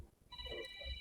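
A telephone rings with a steady electronic tone, starting after a brief moment of low background noise and continuing at moderate loudness with no voices over it.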